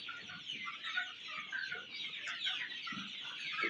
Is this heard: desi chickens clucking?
yes